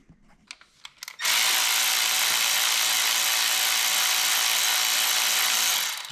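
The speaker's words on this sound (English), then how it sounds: "just an extension and either a ratchet, or if you want to run it out with one of these fancy ratchets" A ratchet spins out Torx bolts on a Chevy Cruze 1.4L engine, a few light clicks and then a loud, steady whirring run close up lasting several seconds before it stops.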